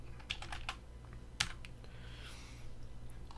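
Typing on a computer keyboard to enter a command, a short burst of close, crisp key clicks followed by a few scattered taps over low background hum.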